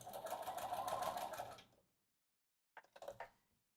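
A sewing machine runs a straight lock stitch in a steady, fast whirring burst for about a second and a half, then stops, followed by a brief second stitching burst after a pause.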